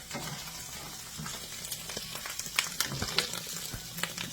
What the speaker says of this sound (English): I love the smell of onions cooking.